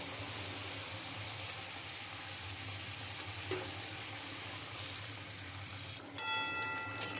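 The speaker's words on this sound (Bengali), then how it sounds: "ঝোলটা ফুটে গেছে, এবার আমি মাছগুলো দিয়ে দেবো।" Rohu fish simmering in a boiling mustard gravy, a steady broadband bubbling and sizzling hiss that holds loud and even throughout, with a faint bright metallic ring entering near the end.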